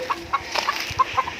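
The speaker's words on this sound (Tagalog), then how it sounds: "Ayan, may mga alaga siyang manok." Chickens clucking close by at a home with an open door, a handful of short, sharp clucks at irregular intervals, with no voices over them.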